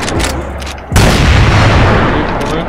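A grenade or flashbang goes off with a sudden loud blast in a tactical shooter game, followed by a sustained noisy rumble that slowly fades, after a moment of quieter game sound.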